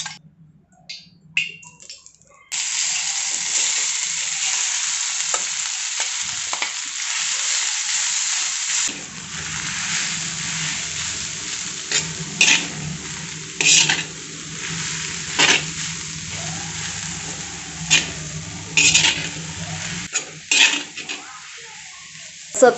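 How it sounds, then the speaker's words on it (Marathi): Garlic-greens chutney sizzles and crackles steadily in hot oil on an iron griddle, with a spoon scraping and stirring through the fry and a few louder clinks near the end. "जी आपण लसणाची चटणी परतणार आहोत ना त्याच्यासाठी मी लोखंडी तव्याचा वापर करत आहे।"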